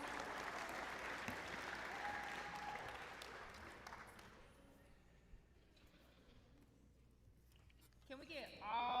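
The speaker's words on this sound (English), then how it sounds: "Let's give her another round of applause." An audience at a high school player showcase and awards event applauds steadily for about four seconds, then the clapping fades to a quiet room before a voice starts at the end.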